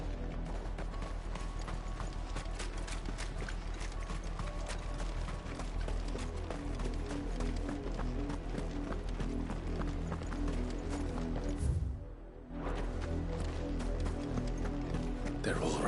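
Rhythmic footfalls of the chocobo Ambrosia running in Final Fantasy XVI, a steady galloping clip-clop over a constant game music and ambient bed, with a brief dip near the end before the stride resumes.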